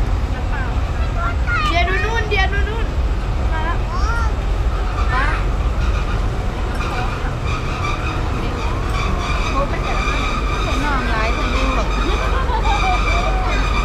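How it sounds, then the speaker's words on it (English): A train rolls past in Thailand, a steady loud rumble and rail noise filling the scene, with faint chirps and background sounds over it and people speaking now and then. "Train going by."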